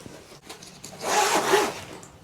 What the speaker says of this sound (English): It's got a nice zipper.